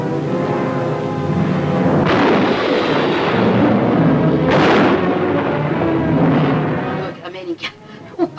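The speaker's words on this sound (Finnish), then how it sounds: "Ukkonen tähän aikaan vuodessa." Heavy thunder rolls on loud and long, with booming cracks swelling through a dense, rumbling wash before it thins out near the end.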